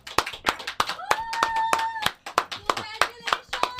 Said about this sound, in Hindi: ताली बज रही है, कौन है ये ताली बजा रहे हैं ना सर?